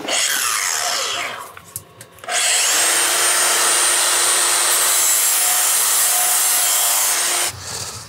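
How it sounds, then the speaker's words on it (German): Power sanding on the metal of a wood-burning stove, a steady loud whine running for about five seconds after a brief start, with a short pause before it. "Sollen wir hier nur ein bisschen schleifen, weil hier so viel Overtur ist?"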